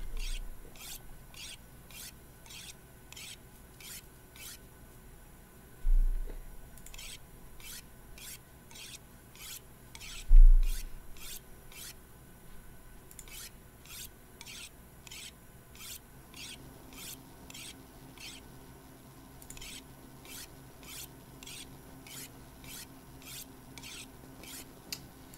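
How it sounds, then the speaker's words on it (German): A tool being sharpened on a whetstone in the survival video game The Long Dark: steady rhythmic rasping strokes repeated evenly throughout, with two brief dull thuds and a quiet background hum. "Lass uns mal den Schleifstein nehmen."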